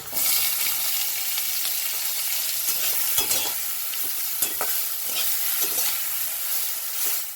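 Sliced capsicum and julienned carrot sauté in oil, a dense, steady sizzle under occasional scraping stirs from a spatula, close and fairly loud, with no talking.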